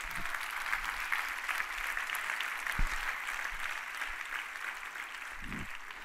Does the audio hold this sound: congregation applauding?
yes